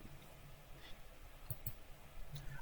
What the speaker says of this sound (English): Right click, delete